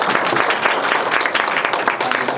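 Audience at a research presentation event applauding, dense sustained clapping from a crowded room, loud and close throughout.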